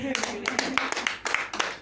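A church congregation claps hands together in a quick, uneven burst of sharp slaps over a short stretch.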